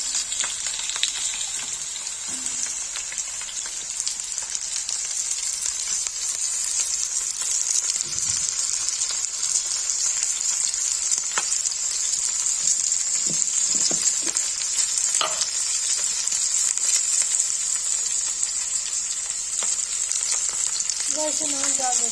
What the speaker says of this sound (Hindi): तेल गर्म हो जाएगा तो नदरू फ्राई करेंगे